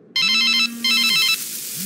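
A mobile phone ringtone plays loud and close in two bursts of bright repeating electronic tones separated by a brief gap, with a low hum underneath and no talking.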